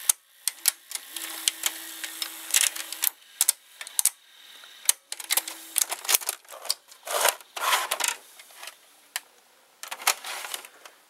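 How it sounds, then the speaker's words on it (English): A quiet VCR tape mechanism in which a solenoid ticks: sharp clicks arrive in rapid irregular bursts, along with a faint mechanical hum and whir, close and alone. "it does a clicking sound due to a solenoid in it"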